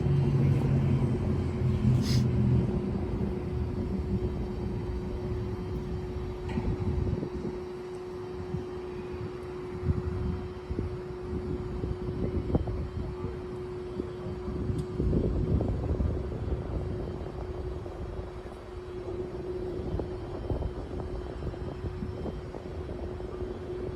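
An elevating work platform basket slews slowly around 180 degrees, with a steady hydraulic motor hum and rumble under scattered knocks and mechanical clatter, close by.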